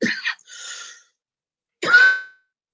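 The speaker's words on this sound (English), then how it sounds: "maybe I can quit coughing" Two separate harsh coughs, the first with a short raspy follow-through, then a pause and another strong cough, close and loud.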